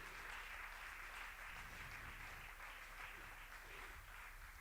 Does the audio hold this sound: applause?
yes